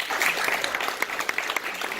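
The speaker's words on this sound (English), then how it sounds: "big round of applause for them." Audience applause for the organizers at the UCI Manifest launch event, steady dense clapping from a seated indoor crowd with a few sharper claps standing out, continuous and fairly loud.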